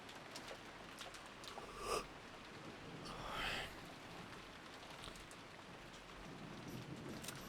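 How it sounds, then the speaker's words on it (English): Soft, steady rain patter fills a game-stream break, a continuous faint wash of drops with a couple of slightly louder swells, no voices. "we get like ASMR rain for the break"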